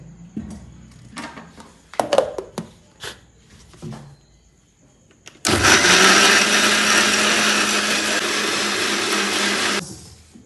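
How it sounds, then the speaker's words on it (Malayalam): A mixer grinder runs loud and steady for about four seconds, grinding a natural hair dye paste with added juice, after a stretch of quieter kitchen clatter and knocks. "നീര് ഇതിലേക്ക് ഒഴിച്ചിട്ടാണ് അരച്ചെടുക്കുന്നത് നന്നായി ഇത് അരച്ച് വരട്ട്"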